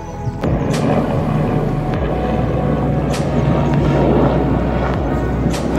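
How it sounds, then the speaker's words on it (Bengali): A helicopter flies over a rhododendron-lined mountain trail between Namche Bazaar and Deboche on the Everest Base Camp trek, making a loud, steady engine drone that fills the whole stretch without clear breaks. "আর এই হেলিকপ্টার সবসময় দেখা যাচ্ছে ওপর নিচ থেকে।"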